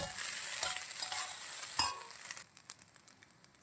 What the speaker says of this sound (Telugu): కొత్తిమీర యాడ్ చేసుకొని మిక్స్ చేసుకోవాలి